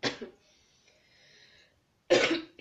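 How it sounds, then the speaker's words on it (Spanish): A person coughs sharply at the start, followed by a quiet breathy pause, then coughs again loudly and close at the end. "aún estoy con la tos."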